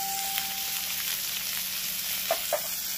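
Spices frying in a pan with salt and turmeric, a steady close hiss of sizzling oil and a couple of soft stirring taps near the end.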